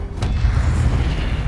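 An Incendio fire spell from Hogwarts Legacy erupts as one dense, booming blast that holds steady for about a second and a half, loud and close, with no voices over it.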